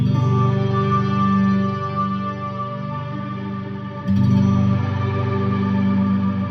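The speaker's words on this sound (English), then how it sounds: "Of course, mod changes the sound of the reverb." Sustained electric guitar chords through a Strymon Cloudburst reverb pedal with modulation wash out in heavy reverb with a wavering, modulated shimmer; a new chord rings in partway through, no voices.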